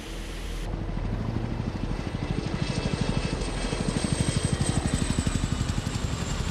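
A military helicopter flies close by, its rotor blades chopping in a fast, steady rhythm over a loud continuous turbine whine, the beat growing stronger as it nears.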